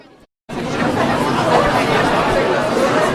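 A crowd of fans chattering as they slowly file inside out of the rain, a dense, steady hubbub of many voices close around after a brief cut at the start.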